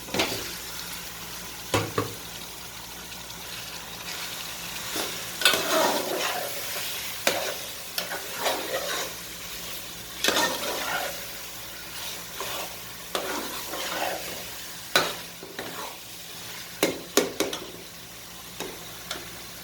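Chicken pieces frying in a soft tomato masala, with a continuous close sizzle broken by frequent scraping stirs of a spoon against the pan, loud and without talk.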